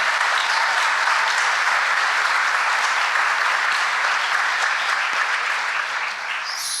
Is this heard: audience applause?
yes